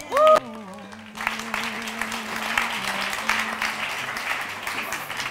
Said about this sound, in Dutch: Alsjeblieft een applaus voor Erik van Lieshout